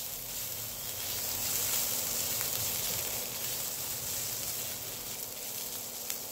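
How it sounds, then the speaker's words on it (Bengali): Onion, garlic and gram flour fry in a pan over low heat, giving a steady, even sizzle that holds at the same level throughout, with no talk. "পেঁয়াজটা ভাজা ভাজা হয়ে গেছে"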